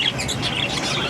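Pet keets chirp and tweet in a steady, busy chatter of high calls, close and fairly loud, with no talking over them.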